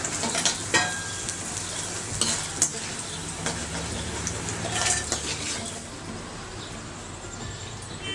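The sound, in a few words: frying in oil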